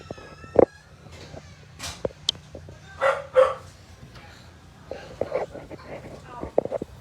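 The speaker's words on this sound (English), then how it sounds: "Uh-oh, the dog's getting excited." An excited dog lets out several sharp, loud barks spaced by pauses indoors, with people talking in between.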